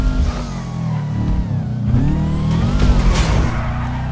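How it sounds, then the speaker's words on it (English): A car engine in GTA 5, heard in first person, drones with a steady high-pitched hum and shifting revs, loud and continuous with pitch wavering up and down as it drives. "in first person, can you hear like the engine making a really weird like noise?"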